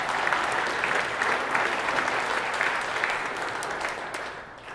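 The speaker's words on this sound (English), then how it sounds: "how about a quick round of applause for all of our sponsors for helping make this possible?" A conference audience gives a sustained round of applause for the sponsors at a DevOpsDays event. The steady clapping fills the room and fades slightly toward the end, with no talking over it.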